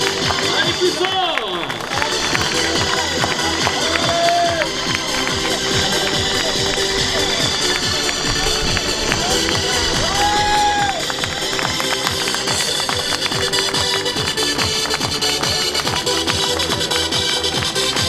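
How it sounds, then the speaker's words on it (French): Loud, sustained applause with cheering fills the air at a triathlon podium awards ceremony in Dijon, a dense steady crowd roar with some voices and shouts mixed in throughout. "on va attendre un tonnerre d'applaudissements"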